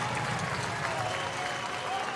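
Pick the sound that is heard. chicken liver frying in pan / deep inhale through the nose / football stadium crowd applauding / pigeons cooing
football stadium crowd applauding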